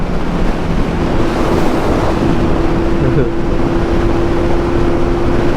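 Loud, constant wind roar buffeting the microphone while riding a motorbike at speed, with a faint engine hum and brief muffled voices underneath.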